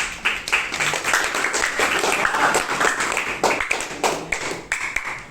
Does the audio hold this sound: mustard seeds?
no